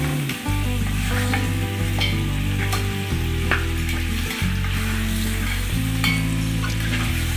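Beef trotters (paye) sizzle loudly as they are stirred and fried in a pan, with a continuous frying hiss, repeated scraping stirs and a steady low hum underneath.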